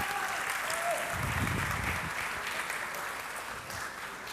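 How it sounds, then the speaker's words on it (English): A crowd at a festival talk breaks into dense, steady applause that holds throughout at moderate loudness. "a big round of applause"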